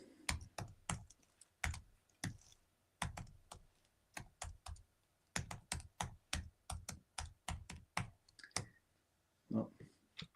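Quiet computer keyboard typing and mouse clicks while an online account is registered, irregular bursts of sharp, close taps with short pauses between.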